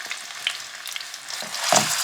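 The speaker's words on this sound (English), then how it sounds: "It's probably gonna sizzle when it hits." Ground beef for a carnivore meal with bacon, butter and eggs sizzles and crackles as it drops into a hot pan, with a louder burst of frying near the end.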